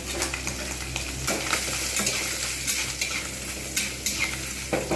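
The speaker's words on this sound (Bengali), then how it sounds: "এইবার এতে আমি নারকেল নারকেলগুলো লালচে করে ভেজে নেব" Coconut pieces frying in oil until reddish, a steady close sizzle with repeated spatula scrapes and clinks against the pan, no talking.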